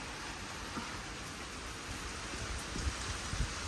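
Steady rain falls throughout, a dense hiss of drops with scattered louder patters close by, no voices.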